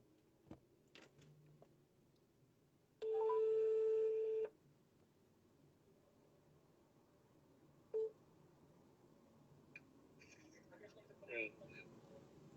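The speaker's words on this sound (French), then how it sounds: "J'appelle Daniel en ligne directe, comme ça, là, il vous explique bien." A telephone dials a direct line, heard as a faint, clear electronic tone lasting over a second, followed later by a brief second beep, all quiet against a low room background.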